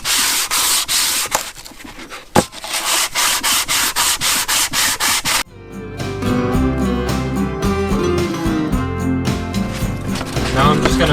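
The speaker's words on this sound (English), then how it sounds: "I've already started just using this big wooden block and some 220 grit sandpaper." Hand sanding of a Suzuki GS850 motorcycle cylinder head's sealing surface with 220 grit sandpaper wrapped on a big wooden block: close, steady back-and-forth rasping strokes in a quick rhythm for about five seconds, then music takes over.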